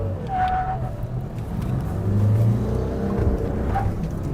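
A 2025 Mahindra Bolero B6 revs hard at full throttle with the steering at full lock in a village, its engine a loud, steady low roar that swells and strains, with some tire scrub.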